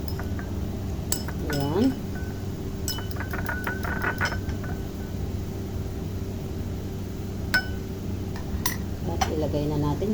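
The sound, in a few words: whisking egg with milk in a bowl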